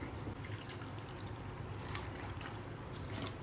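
Soft pouring and trickling of a little water into a pot of cooking horse gram, faint and close, a gentle continuous splash lasting a few seconds with no talking.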